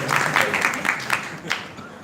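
A lecture audience claps briefly at a Bhagavad Gita class, a short, moderately loud patter of hands with a voice speaking over it.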